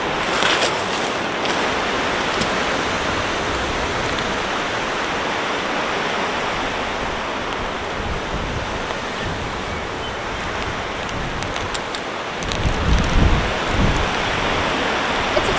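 Strong winter wind roars in a continuous, hissing rush at an outdoor campsite, swelling into a heavier gust near the end, with no voices.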